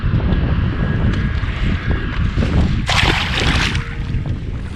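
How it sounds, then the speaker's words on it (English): Steady wind roars and buffets over choppy water around a fishing kayak off Hawaii, with broadband gusts throughout and a brighter rush of spray or wind noise midway, no speech. "Wind's picking up. It's getting a little choppy out here"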